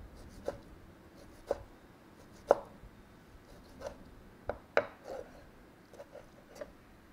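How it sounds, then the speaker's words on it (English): A Japanese knife cuts fish into small cubes for kosher ceviche, producing faint, irregular taps on a cutting board, roughly nine soft knocks spaced across several seconds. "once you've sliced down the fish, then you cut it across like into cubes"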